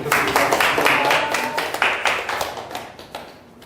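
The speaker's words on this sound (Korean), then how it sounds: "박수 한번 부탁드립니다." An audience applauds at the close of a lecture, with a dense burst of clapping from a small crowd that starts strong and gradually thins and fades over a few seconds.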